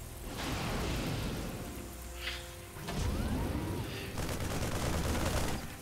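Continuous rattling gunfire from a bunker during a StarCraft match of Terran against Protoss, firing at Zealots, a dense crackling barrage with commentary faintly beneath.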